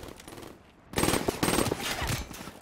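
Gunfire in the video game Black Ops 3: after a brief quiet moment, a loud burst of rapid automatic shots rattles out, then keeps going in choppy bursts until the end.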